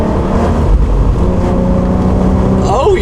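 A modified BK1 Hyundai Genesis Coupe with the 3.8 V6 accelerates hard in a loud, continuous drone from inside the car, with a voice talking briefly over the engine.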